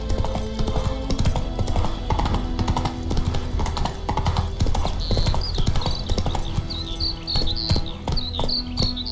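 Horse hooves clip-clop in a steady galloping rhythm from Roach, the horse in the video game The Witcher 3, close and loud over a continuous bed of chirping insects and crickets, with occasional faint game sounds.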